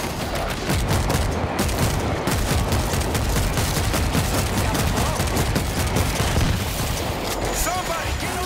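Machine gun fire in a video game, a dense, unbroken rapid rattle of shots loud and close for several seconds, mixed with other combat noise.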